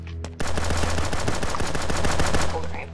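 Rapid automatic gunfire from the pixel shooter game Pixel Strike 3D crackles in a loud, continuous burst of closely spaced shots for nearly three seconds.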